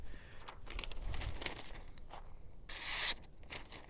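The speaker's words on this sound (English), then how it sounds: "let's go ahead and cut out a page here and see how it does" A Gerber F.A.S.T. Draw knife slicing through a sheet of paper gives quick, close rasping and scraping strokes, with a sharper, louder tearing swish near the end.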